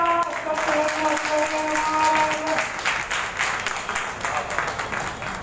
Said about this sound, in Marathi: आता जोरदार टाळ्या वाजवा